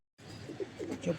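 Pigeons kept in a loft in Lahore give soft, low cooing calls in several short bursts, fairly close and moderately loud, with no talk over them.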